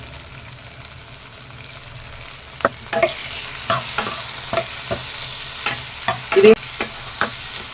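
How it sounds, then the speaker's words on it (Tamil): Tomatoes go into a pan where okra is frying for a tamarind curry, setting off a steady sizzle with a run of sharper crackles and stirring knocks, close and fairly loud, with no talking. "இப்போ இந்த ஸ்டேஜில் நான் ஒரு பெரிய தக்காளியா 2 தக்காளி ஆட் பண்ண போறேங்க"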